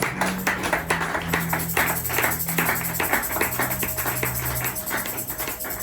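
A church congregation claps at a worship service, producing a steady, rhythmic run of hand claps over a sustained tonal background.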